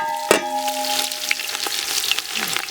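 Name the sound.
cumin and onions frying in oil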